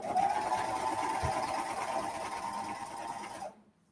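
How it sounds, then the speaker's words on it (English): A sewing machine stitches pockets on a pair of shorts, a fast, steady mechanical whir running for about three and a half seconds before stopping abruptly. "I'm going to sew up these 4 things, okay, these 4 pockets"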